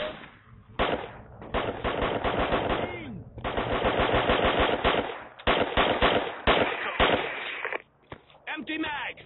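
Rapid automatic gunfire in the military shooter game Project Reality, with sustained bursts and single shots from nearby and distant weapons, loud and continuous, with voices talking over the firing.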